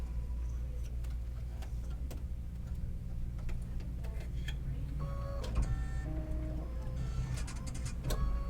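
An embroidery machine stitches a Kimberbell digital design in black thread, giving a steady mechanical hum with rapid ticking needle strikes and occasional short whirring motor shifts, close and continuous.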